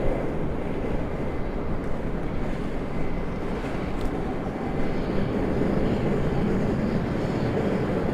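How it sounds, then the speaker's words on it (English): An American Airlines Embraer E175 jet moving at Raleigh-Durham International Airport, a distant, steady engine rumble mixed with wind noise and holding at an even level throughout. "Got an E175 getting a move on from American Airlines."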